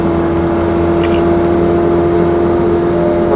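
Car held on full throttle around a race track at Speed Vegas, a loud steady engine drone with a strong sustained tone and road roar heard from inside the cabin, with no voices.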